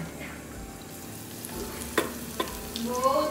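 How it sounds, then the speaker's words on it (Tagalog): Bataka puri snack frying in hot oil, a steady close sizzle with occasional stirring clinks and sharper crackles, no talk over it. "nagluluto si Mami nitong bataka puri"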